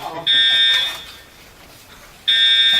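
A building fire alarm blares in two loud, shrill electronic bursts separated by a quieter pause, heard indoors during a department meeting.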